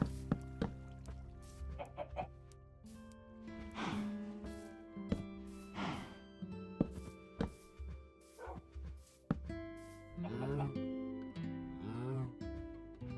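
Chickens clucking nearby in short, scattered calls and squawks over about thirteen seconds, mixed with sharp clicks and thumps, fairly faint overall.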